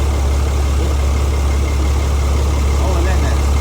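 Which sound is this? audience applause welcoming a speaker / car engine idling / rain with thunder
car engine idling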